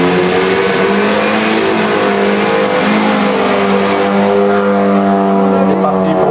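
A Renault 5 GT Turbo race car at a historic hill climb accelerates hard, its engine note climbing steadily and loud for several seconds, with a commentator's voice running over it.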